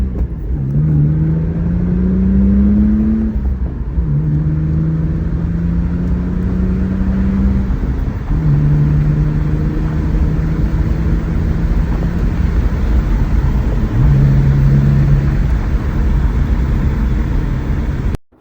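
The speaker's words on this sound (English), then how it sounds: "So let's go ahead and throw it into first and get to some driving." A BMW E46 325Ci with a newly installed short shifter pulls away in first and accelerates hard, the engine note rising steadily through several gears in repeated climbing sweeps, loud and continuous from inside the cabin.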